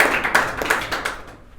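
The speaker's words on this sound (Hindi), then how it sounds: "इनके लिए बहुत जोरदार ताली," Audience members clap for a student who took first place, a short burst of sharp, uneven handclaps that thins and fades out after about a second and a half.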